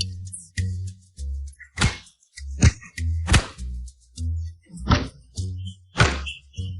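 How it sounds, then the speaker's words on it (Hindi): Heavy thumping blows land one after another in an uneven rhythm, sharp close whacks separated by brief gaps, as someone is beaten. "मैं तुम्ही को पीट रहा हूं।"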